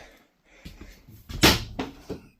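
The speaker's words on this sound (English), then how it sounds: "Drawer." A cabinet drawer slides open inside a 2025 Grand Design Transcend Xplor 20MKX travel trailer, giving a few soft scrapes and then a sharper clack at close range.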